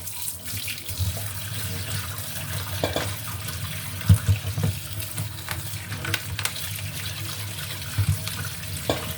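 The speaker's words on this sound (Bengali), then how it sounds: "আমি ঠান্ডা পানি দিয়ে একটু এগুলি" Cold tap water runs steadily over vegetables being rinsed, with occasional knocks and splashes as they are handled, in a kitchen during a power cut.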